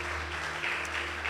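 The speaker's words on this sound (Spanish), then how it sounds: "dale ese aplauso fuerte" A church congregation claps in a brief, dense burst during a service, over a low steady hum.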